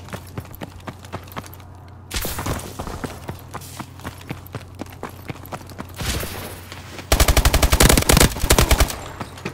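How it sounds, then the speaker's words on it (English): Submachine gun gunfire in a Call of Duty Advanced Warfare multiplayer match: scattered single shots, then loud bursts of automatic fire, with a dense rapid volley near the end. "you can't use a submachine gun from this far away"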